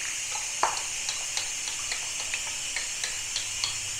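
Fish-finger batter being stirred in a bowl: soft, light scraping and tapping strokes repeat in a steady rhythm, close by and quiet, with no voices.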